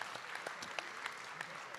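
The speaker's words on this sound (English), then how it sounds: "I want to clap that off first." Scattered clapping from a board meeting audience honoring an undefeated high school bowling team, with some voices mixed in over a short stretch.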